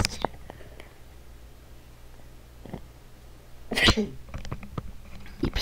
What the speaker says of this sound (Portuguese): Precisei dar um espirrinho que eu amanheci alérgica